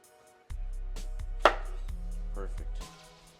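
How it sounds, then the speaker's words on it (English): A knife quarters a tomato on a cutting board, a few crisp, close chopping knocks spaced out over a low steady hum, with no talking. "Tomato, let's do four quarters right here."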